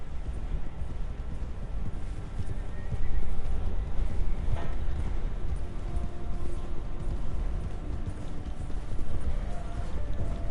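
A horse gallops in Red Dead Redemption 2, fast hoofbeats blurred under a steady rush of wind and movement, loud and continuous with no talking.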